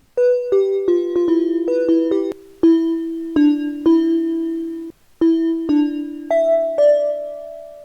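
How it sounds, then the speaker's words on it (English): A clean, subtle bell plays a sparse counter melody in a beat, each note striking clearly and ringing out with delay tails filling the gaps between hits; about a dozen notes, alone and prominent. "For this, I'm going to take a clean, subtle bell sound."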